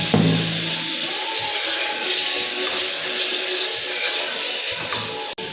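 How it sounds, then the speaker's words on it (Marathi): Hot water poured onto frying garam masala and spices in a pan for a Maharashtrian black vatana curry, a steady rushing, hissing pour running close and continuous throughout with no talk. "हे गरम पाणी आहे माझ्याकडे, ते टाकते मी"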